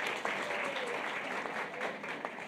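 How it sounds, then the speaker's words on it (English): Warm, steady applause fills the hall at the Top Women EmpowHer event in Cape Town for Founder Mav, a dense even clatter of many hands lasting throughout, with faint voices underneath. "let's give her a big round of applause"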